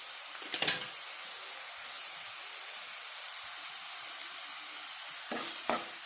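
Potatoes and peas fry in a pan with a faint, steady sizzle, broken by a few brief scraping stirs near the start and again toward the end.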